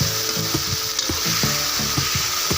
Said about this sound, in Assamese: মছলা মাৰি থোৱা মাংসখিনি ভাজি আছোঁ।